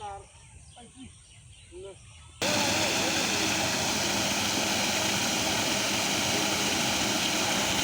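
A water pump engine starts up beside a fish pond, going from quiet outdoor ambience with faint birds and voices to a sudden loud, steady, droning engine roar that runs unbroken to the end.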